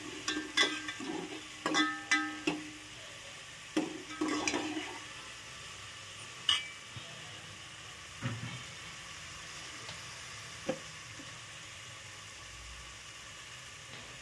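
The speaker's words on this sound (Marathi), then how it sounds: "म्हणजे कांद्या लालसर होईपर्यंत व्यवस्थित नीट परतून घ्यायचा." Onions sauté in a pan for Malvani chicken sukka, a faint steady sizzle with a cluster of spoon scrapes and clinks early on, then quieter frying with occasional taps.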